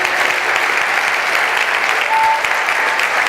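A church congregation claps in sustained, dense applause, a loud and steady roar of many hands that fills the room without a break.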